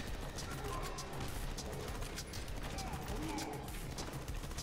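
Dense, rapid gunfire and impact effects from the video game Ruiner are heard at low volume as a continuous crackling stream with repeated sharp shots.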